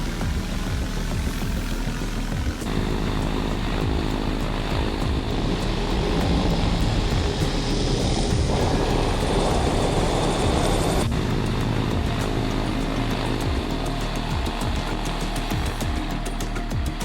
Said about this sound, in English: The Super Cub is a Bush airplane designed and produced by Backcountry Super Cubs aircraft manufacturer based in Douglas, Wyoming.